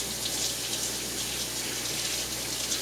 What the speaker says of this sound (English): let me rinse my hands quickly here